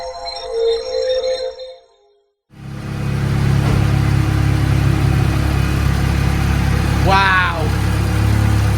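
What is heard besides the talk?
K24 Honda Civic engine on dyno power run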